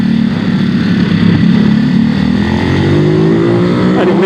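A Ducati SuperSport 950 S (2021) motorcycle engine on a racing circuit, held at a loud, steady high drone that rises slightly in pitch as the throttle opens, close and continuous, with no talking.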